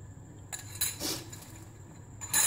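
An egg and milk mixture being stirred in a bowl, a few brief clinks and scrapes of a utensil against the bowl in quick bursts, close and clear with no talking.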